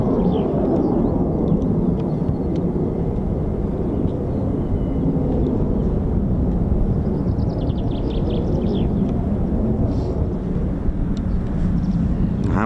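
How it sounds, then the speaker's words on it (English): A Pratt & Whitney F-100 jet engine on an F-15 spools up at an air force base, giving a loud, continuous low roar and rumble that holds steady, with faint birdsong high above it. "I can still hear an Pratt & Whitney F-100 engine spooling"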